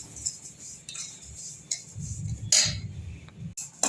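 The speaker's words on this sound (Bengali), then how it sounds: "ঘিয়ের মধ্যে সুজিটাকে আমি নাড়াচাড়া করে নিচ্ছি" Semolina being stirred in ghee in a pan, with scraping and clinking of a utensil against the metal, faint and irregular, with soft frying underneath.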